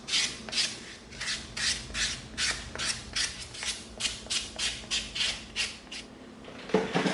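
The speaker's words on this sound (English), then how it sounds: "Let's come in with our 220 sanding stick" A 220-grit sanding stick smooths EVA foam in quick back-and-forth strokes, about a dozen and a half rhythmic rasping passes heard close up in a quiet room.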